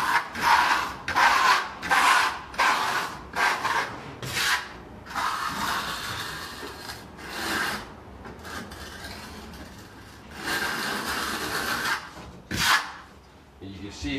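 A trowel scrapes and spreads mortar across a level-entry shower pan during installation, a series of rasping, rubbing strokes in bursts with pauses, close and fairly loud, with some talk in the background.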